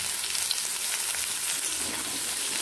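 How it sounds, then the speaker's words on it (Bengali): Potatoes and carrots frying together in a pan: a dense, even hiss and crackle of hot oil, close and steady throughout with no talking. "এবার আমি এখানে আলু আর গাজরগুলোকে একসঙ্গে ভেজে নিচ্ছি"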